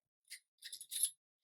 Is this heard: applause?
no